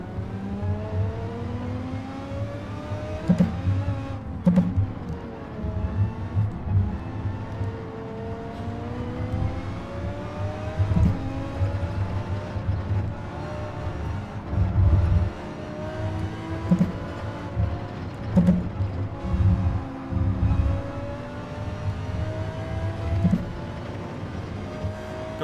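Race cars in Gran Turismo 7, including a Mercedes, roar and rev through gear changes, engine pitch rising and falling repeatedly with whooshing passes, loud and continuous under a brief murmur from a voice.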